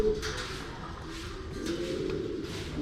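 Pigeons in a pen coo softly in low repeated throaty phrases, faint and close against a steady background hum.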